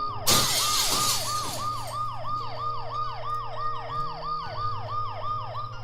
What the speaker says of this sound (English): the ambulance's deafening siren